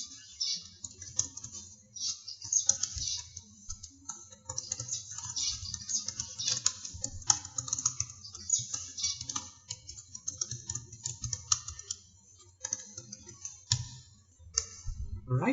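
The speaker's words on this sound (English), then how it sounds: "let's just type what I usually start my videos with." Steady typing on a computer keyboard, a dense run of quick clicking keystrokes with uneven rhythm, close and fairly quiet over a low background hum.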